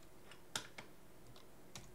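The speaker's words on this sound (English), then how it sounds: "I'm assuming that's the logic circuits making the clicking noise" Sparse, sharp clicks from logic circuits in the Stationeers video game tick faintly against a quiet background, a few isolated clicks spaced irregularly.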